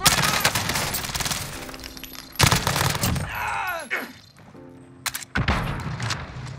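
Loud bursts of automatic rifle fire in Call of Duty Warzone, a Grau 5.56 among them, crack out in several volleys separated by short pauses, with thuds and chatter between bursts.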